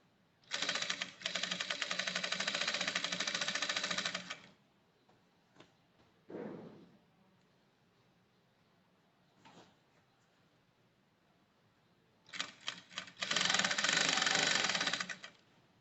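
A sewing machine stitches a woman's blouse sleeve in two loud steady runs of rapid stitching at the start and end, separated by quiet handling noises.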